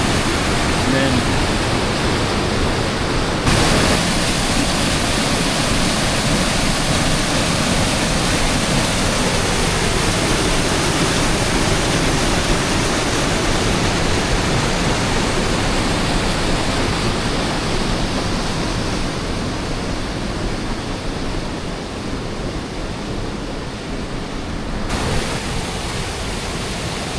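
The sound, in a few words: Rock Run Falls waterfall, creek plunging into deep pools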